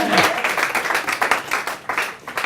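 An audience at a live stage talk applauds in a close, busy burst of clapping that holds steady for a couple of seconds, with a brief voice at the very start.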